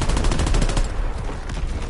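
Enemy artillery fire in the video game Call of Duty WW2, a loud rapid volley of booming blasts in the first second, then a rumbling, noisy tail.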